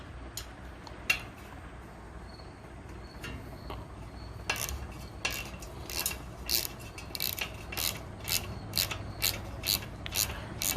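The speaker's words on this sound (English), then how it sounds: "You need a 10mm socket wrench on this end and a 5mm Allen on this side." A 10mm socket wrench works on a Lectric e-bike headlight mount, giving scattered faint clicks that build into a run of quick ratchet strokes toward the end, close but quiet.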